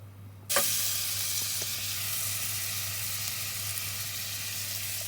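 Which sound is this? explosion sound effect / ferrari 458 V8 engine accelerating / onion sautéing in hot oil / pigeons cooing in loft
onion sautéing in hot oil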